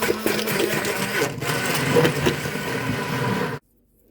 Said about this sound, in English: I'm just going to go in with the stick blender and blend it all up